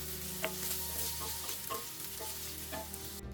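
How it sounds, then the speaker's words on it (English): Beef tongue searing in a hot skillet, giving a dense, continuous sizzle with occasional crackles and stirring sounds. It is close and steady and cuts off abruptly at the end. "give them a quick sear in a hot skillet"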